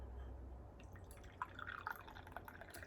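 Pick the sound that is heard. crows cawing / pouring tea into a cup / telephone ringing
pouring tea into a cup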